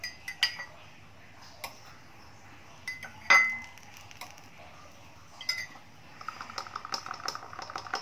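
Spoon scraping and clinking in a bowl of homemade songbird feed for an ontong bird, a few scattered light taps and knocks with quiet gaps, then a faster run of soft stirring clicks toward the end.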